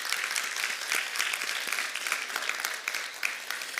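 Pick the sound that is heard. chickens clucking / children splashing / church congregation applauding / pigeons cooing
church congregation applauding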